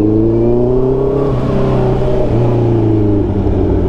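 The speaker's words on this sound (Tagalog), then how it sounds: "Ang ingay ng muffler talaga." A big-bike 4-cylinder motorcycle with a loud muffler revs steadily nearby, its engine note rising and dipping in a continuous droning roar.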